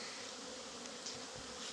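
Bees of a medium-strength colony hum steadily at the hives, a constant close buzzing drone with no voices over it.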